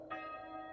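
Bell of an old village schoolhouse strikes once and rings on with a sustained, resonant metallic tone, faint and somewhat distant.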